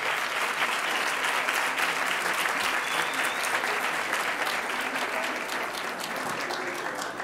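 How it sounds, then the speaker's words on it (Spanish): Sustained applause from a seated audience at a university graduation ceremony, dense steady clapping filling the hall for about seven seconds with no speech over it. "Un aplauso para ellos."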